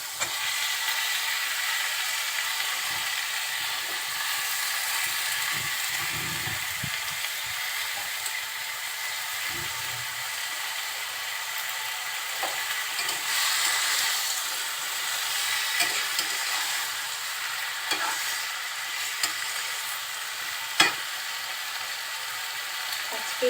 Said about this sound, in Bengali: এখন ধুয়ে রাখা পুঁই শাক আর আলু দিয়ে দিচ্ছি